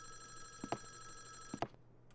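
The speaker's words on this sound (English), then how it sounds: "Phone call!" Two short bursts of a telephone bell ring out in the horror video game Five Nights at Wario's, spaced about a second apart over a steady electronic hum, then the sound cuts off.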